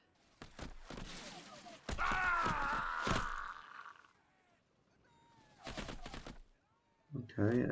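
Musket volleys crackle in Shogun: Total War as the Shimazu clan's firing line engages, bursts of gunfire punctuating stretches of groaning voices and battle noise, with someone talking over parts of it.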